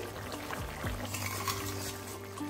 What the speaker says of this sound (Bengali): লঙ্কাটাকে মিশিয়ে দিলাম তরকারির সঙ্গে